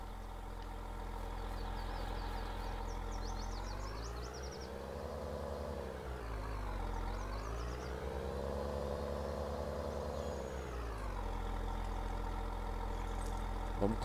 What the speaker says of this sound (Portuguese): Vamos com o trator puxar pro outro lado